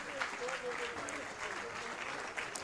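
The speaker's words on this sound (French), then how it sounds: "Bah oui, faut m'applaudir là." Applause from an audience at a stage show honouring mothers: a soft, steady patter of clapping heard from a distance, with faint voices underneath.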